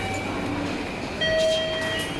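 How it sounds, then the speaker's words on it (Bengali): A train rumbles steadily nearby as it arrives at a station in Japan, with thin whining tones rising over the rolling noise partway through. "ট্রেনটা চলে আসছে"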